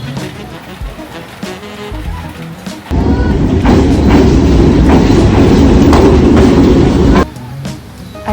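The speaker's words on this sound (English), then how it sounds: "I'm just sitting at the famous train street, ordered a coconut coffee and I'm just waiting for the train." A train rolls through the narrow Hanoi train street, its loud rumble and clickety-clack of wheels swelling suddenly and holding steady for several seconds before dropping away to quieter street ambience.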